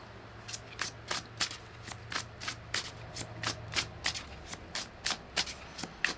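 Oracle deck being shuffled by hand, a quiet, rapid series of crisp riffling card slaps in an even rhythm, close up and alone without talk.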